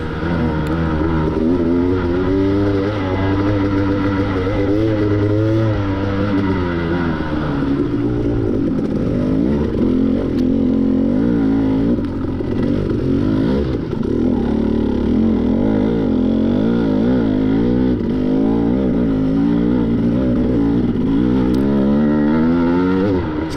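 KTM 250XC two-stroke dirt bike engine on a motocross lap at The Hideout, loud and close throughout, revving up and down steadily with throttle changes, no talking.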